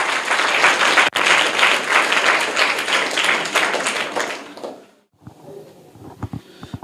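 Classroom applause for a student's correct answer in a government school in Bihar, loud close clapping from many children that stops abruptly, followed by quiet room noise and a few scattered knocks.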